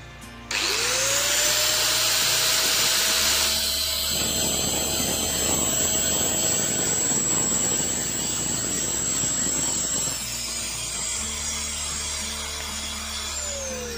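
An Ossel GT100 angle grinder with a blade fitted spins up and runs steadily at a high whine, loud and close, with a brief deeper shift in pitch midway before settling back, then spinning down at the end.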